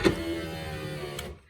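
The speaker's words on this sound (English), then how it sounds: "Now the window motor works." The driver's door power window motor of a 1998 Ford F150 whirs steadily up close for just over a second, then cuts off abruptly with a faint click.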